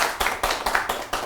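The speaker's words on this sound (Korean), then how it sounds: "그럼 박수 한번 주세요." A small audience at a company meeting gives a short, brisk round of clapping, with several quick bursts of hand claps following one another without a break.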